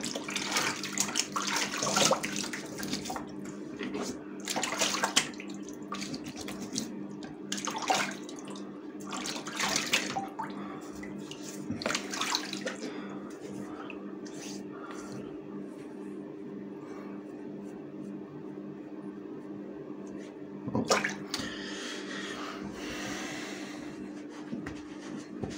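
Water from a running tap splashes in bursts as hands scoop it up to wash the face before a shave, over a steady low hum of flowing water, with quieter gaps between splashes.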